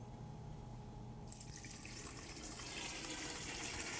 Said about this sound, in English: we've got a lot of juice here coming off